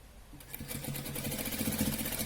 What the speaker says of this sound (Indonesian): Kita jahit dengan jahitan kampu stabil 1 cm dari ujung sampai ke ujung.